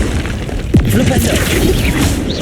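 Flipendo spell striking a target in Hogwarts Legacy, a quick whooshing sweep ending in a punchy thump, followed by continuous loud combat rumble and voices.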